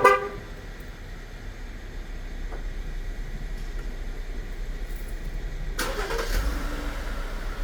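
A car starting by remote: a short horn chirp at the start, a low idle hum, then the engine cranking and catching near the end, no voices.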